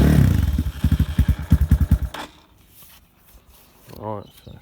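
A GMX 250cc X Series motorcycle cranks and starts with the choke on, a close, loud rhythmic chugging that catches for about two seconds and then dies away, followed by quiet clicks and a brief voice.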